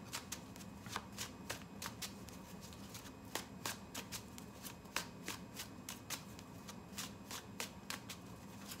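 A steampunk-themed tarot deck is shuffled close by in a quiet room, its cards riffling and slapping in a brisk, steady run of soft crisp snaps.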